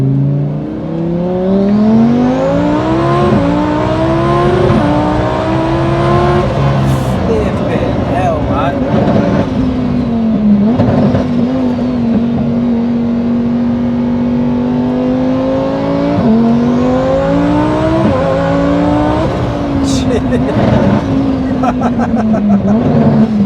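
An 1100hp twin-turbo Lamborghini Huracan accelerates hard from inside the cabin, its engine note climbing and dropping through several gear changes, loud and continuous, with people talking over it.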